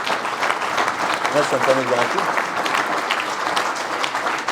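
A crowd at a New Year's greetings ceremony in Auterive, France breaks into sustained, even applause, a continuous wash of clapping lasting several seconds while someone speaks briefly over it.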